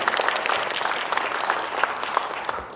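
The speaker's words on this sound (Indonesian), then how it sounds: "Tepuk tangan, terima kasih." Listeners at a public speaking training session in Bandung give a round of applause, a steady, even spread of many hands clapping at moderate volume that continues throughout and eases slightly at the close.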